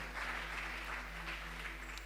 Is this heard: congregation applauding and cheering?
yes